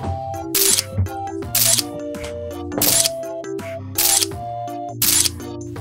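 A camera shutter clicks about five times at a steady, roughly one-second rhythm, each snap loud and crisp over a sustained musical tone.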